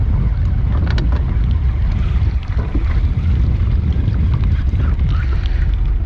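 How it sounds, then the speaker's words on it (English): Wind buffets a boat out on Lake Guntersville during bass fishing, a loud steady low rumble of gusts against the microphone with faint water sounds beneath, continuous for several seconds with no clear talk. "Oh, it's starting to get windier"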